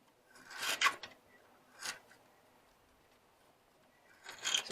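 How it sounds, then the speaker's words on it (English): A scribe scratching a line into a tractor's metal frame at the loader mount: three short, close rasping scrapes separated by pauses, with no talk. "put a scribe line on the frame where the loader"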